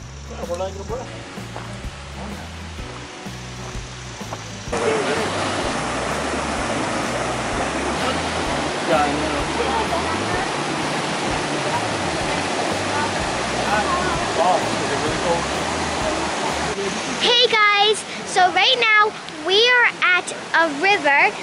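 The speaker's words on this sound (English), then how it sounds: "A river where there is like a teeny tiny baby waterfall" A tiny waterfall in a mountain river roars steadily and close, a dense continuous rush of water that swells louder partway through, with brief voices and some handling noise near the end.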